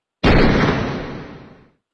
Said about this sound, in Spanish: cogió su arma y disparó a Canelle,